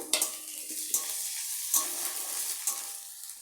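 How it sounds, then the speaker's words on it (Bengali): Crushed garlic cloves and ginger paste fry in a pan while being stirred, giving a soft continuous sizzle broken by several sharp scrapes of the spoon. "রসুন সাত আটটা রসুনের কোয়া থেতো করে নিয়েছি আর একটু আদা বাটা দিয়ে আবার একটু নেড়ে নেব"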